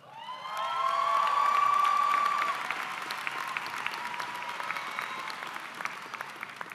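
Applause from the audience at an Albert Einstein High School commencement ceremony, swelling quickly to a full roar with a few cheers and whoops, then settling into steady, somewhat thinner clapping that continues to the end.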